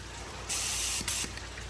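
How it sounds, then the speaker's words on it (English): A spray gun hisses out primer onto a Mustang trunk lid in a garage, a loud steady burst lasting under a second, then a second brief puff. "Let's see if I can get a little more primer to come out"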